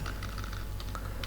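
Rapid keystrokes on a computer keyboard as a C++ code comment is typed, a steady patter of close, crisp clicks with no talking.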